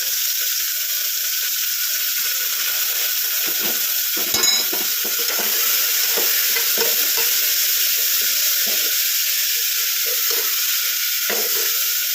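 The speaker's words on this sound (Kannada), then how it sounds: "ಚೆನ್ನಾಗಿ ಫ್ರೈ ಚೆನ್ನಾಗಿ ಫ್ರೈ ಮಾಡಿದ್ದೀನಿ" Ridge gourd frying and being stirred in a pan for a gozzu curry, a steady close sizzle running throughout with scraping stir strokes and a brief metallic clink near the middle.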